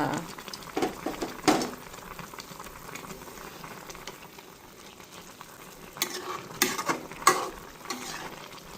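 Cauliflower curry simmering and frying in a pot as green chilies and coriander leaves go in, a steady soft bubbling sizzle broken by spoon scrapes and clinks, busier toward the end, close up with no voices.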